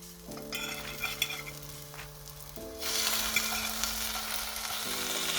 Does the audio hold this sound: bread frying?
yes